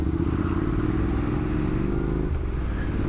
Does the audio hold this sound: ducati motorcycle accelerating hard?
yes